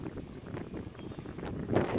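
Steady low rumbling wind buffeting the microphone, continuous and muffled, with a stronger gust near the end.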